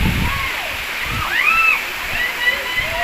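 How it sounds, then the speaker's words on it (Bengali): Steady rushing water from a small waterfall on the road to Rohtang Pass fills the background while a person talks over it. "একটা ছোট ঝর্ণা"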